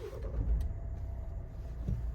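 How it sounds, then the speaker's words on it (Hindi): A Mahindra XUV700 AX7 L diesel SUV with a manual gearbox and 30,000 km on it starts up with a deep low thump, then settles into a steady, close, rumbling idle. "एक मिनट में आपको स्टार्ट करके दिखा रहा हूँ।"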